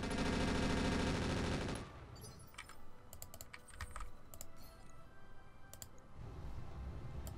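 Mech weapons fire in the video game Roguetech, a loud sustained burst at first, then sharp scattered impacts and clicks over a lower rumble, with the barrage swelling again near the end.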